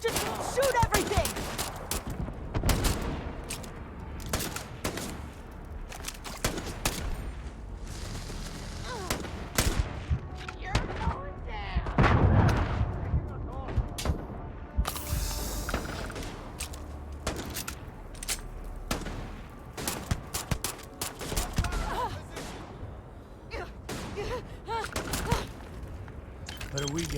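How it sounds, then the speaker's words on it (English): Dense gunfire in the space game Starfield, with rapid bursts of shots and booms going on almost without a break, loud and close, while voices talk and shout over the shooting. "Just shoot everything!"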